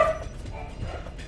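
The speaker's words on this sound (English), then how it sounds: "Why are my dogs barking?" Dogs bark indoors in a room, one sharp bark at the start followed by fainter yips and low muffled noise.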